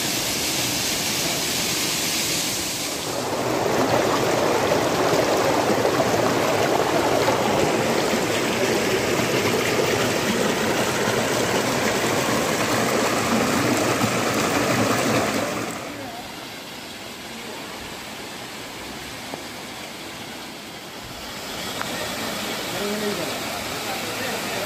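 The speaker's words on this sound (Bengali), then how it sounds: "এরকম সুন্দর ঝর্ণা" A waterfall in the Darjeeling hills gives off a steady broadband rush of falling water, swelling louder from about three seconds in and easing back to a softer roar near the end.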